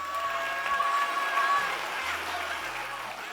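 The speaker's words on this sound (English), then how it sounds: "Please, a round of applause for Afra." An audience at a beauty pageant gives a contestant a dense, steady round of clapping that fills the hall at moderate distance, with a voice faintly present beneath it.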